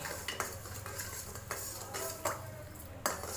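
A spoon stirs sugar into lemon water for Indian nimbu pani, quiet steady clinks and swirling scrapes against the glass in a loose repeating rhythm.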